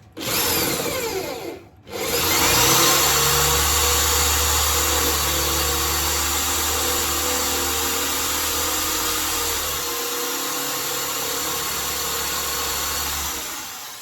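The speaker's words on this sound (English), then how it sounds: "There's a problem with drilling plywood." A power drill boring a deep 10mm hole in plywood, a loud continuous whine and grinding drone after a brief stop and restart near the beginning, running steadily for several seconds before winding down.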